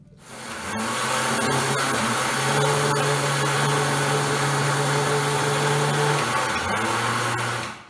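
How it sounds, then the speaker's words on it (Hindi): An electric grinder runs steadily on soaked, slightly damp rice, a loud continuous motor whir that spins up quickly, holds for several seconds, then winds down. "देखिए मैंने ये उसमें ग्राइंड कर लिया है चावल"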